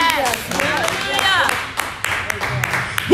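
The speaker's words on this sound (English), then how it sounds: "Somebody clap your hands for the goodness of Jesus." A church congregation claps hands in praise of Jesus, sharp irregular claps mixed with voices and sung or shouted exclamations, fairly loud and close throughout.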